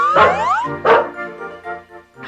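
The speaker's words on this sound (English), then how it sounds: "A dog? I didn't know we had a dog." A dog in a movie gives two sharp, close barks in quick succession, followed by fainter, lingering tonal sounds.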